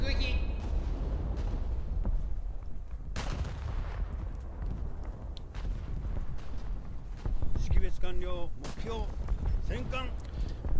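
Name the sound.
naval shell gunfire in a warship video game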